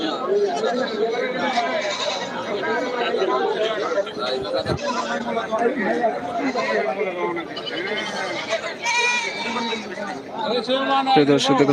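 Busy outdoor livestock market in Amtali, Manikganj, Bangladesh, with young goats bleating repeatedly amid constant crowd chatter and several people talking nearby.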